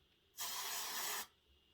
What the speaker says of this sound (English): I have taken some of this spray to the center here. I'll do it right now.